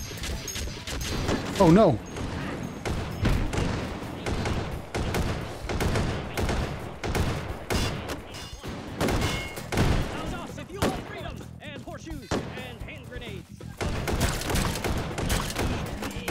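Rapid bursts of gunfire in the VR game Hot Dogs, Horseshoes & Hand Grenades, dense repeated shots and impacts throughout, loud and close, with a player talking over the shooting.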